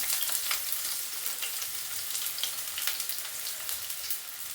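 Onions, garlic, curry leaves and green chillies fry in hot oil for fish curry, with a constant, close crackling sizzle that pops and spits unevenly throughout.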